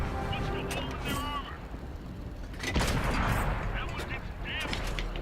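A tank cannon fires in World of Tanks, a sharp blast near the third second rising over a dense rumbling battlefield bed of engine and gunfire noise, with someone talking over it.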